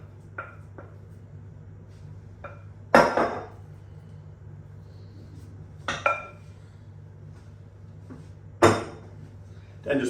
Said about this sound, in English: And then we just pop our apple mixture all into that at once